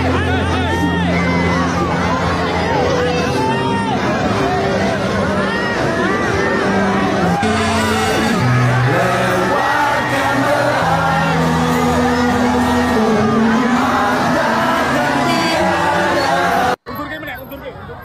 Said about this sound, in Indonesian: Teriak-teriak panggil Pak Jokowi ya kan